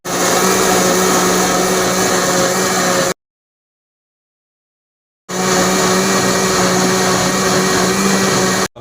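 An electric blender whirs loudly as it mixes plum juice with milk and sugar, running steadily for about three seconds, cutting off for a pause, then roaring again for another stretch.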